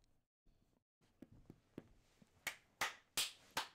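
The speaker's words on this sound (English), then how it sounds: "Stop the clapping." Hand clapping among guys on a couch, starting as scattered soft taps and building to four loud, sharp claps spaced about a third of a second apart, close by in a quiet room.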